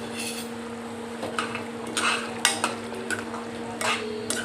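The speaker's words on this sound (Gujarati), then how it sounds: "હવે આ બધું આપણે મિક્સ કરી લેવાનું છે" A spoon stirs cooked ridge gourd and tomato curry with sev in a pan, producing soft scraping and clinking scrapes against the metal in uneven strokes over a steady low hum.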